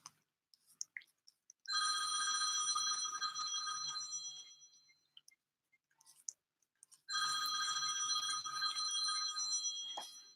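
A telephone rings loudly in two long electronic trill bursts separated by a quiet gap, with faint clicks and small sounds between the rings.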